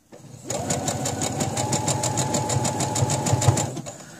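A sewing machine stitches fabric for a pad, a fast, even mechanical rattle of needle strokes running steadily for a few seconds, close and clear.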